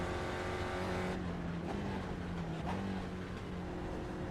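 A racing car engine in the iRacing simulator hums at high revs, its pitch shifting as it downshifts and climbs again, loud and continuous with no voices.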